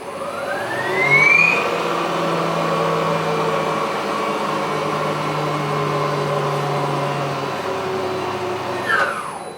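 An electric Toyota Matrix conversion drives and slows under regenerative braking, giving a steady whining motor hum with rising and falling tonal whines, fairly close and loud, with no talk.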